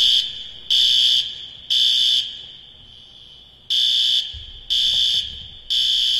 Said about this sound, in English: the fire alarm will sound.